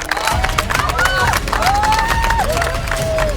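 A Survivor Türkiye studio audience claps and cheers loudly and continuously, a dense crowd roar with tonal sounds weaving through it.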